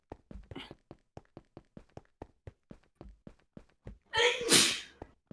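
A person sneezes loudly and close up near the end, after a long run of regular light tapping or footstep-like clicks.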